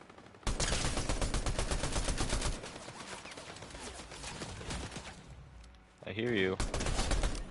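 Rapid video game gunfire bursts out loudly at first, a dense rattling volley, then eases into quieter, steadier shooting under a voice before another loud burst near the end.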